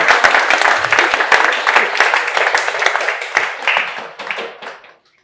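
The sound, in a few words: audience clapping at lecture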